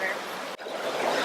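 Cold stream water on the Tongariro Northern Circuit swishing as feet are dipped in, a steady broadband rush with a brief break partway through, close and fairly loud.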